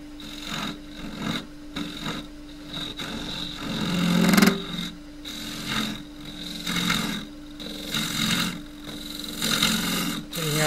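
A half inch gouge cutting wood on a lathe, rhythmic rasping and scraping passes over a steady motor hum, close and repeated in short strokes.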